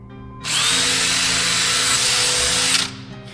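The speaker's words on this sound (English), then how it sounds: "Drill brush again." A drill brush scrubs shampoo-soaked car carpet in a single continuous burst, a loud high-pitched whirring buzz that starts abruptly, runs steadily for a couple of seconds up close, then cuts off.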